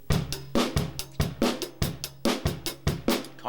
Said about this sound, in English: You could play eighth notes on the hi-hat